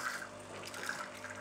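Hot water pouring from a Saeco Magic de Luxe coffee machine, a soft continuous trickle and hiss heard steadily at low level throughout, without talk.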